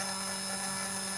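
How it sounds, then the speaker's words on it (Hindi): A small DC motor runs on a DIY 6-volt battery eliminator, giving a steady, fast, high-pitched electric whine with a constant buzzing hum. It is brief and continuous, with no talking. "दोस्तों जो आप आवाज़ सुन रहे हो वो मोटर की आवाज़ है।"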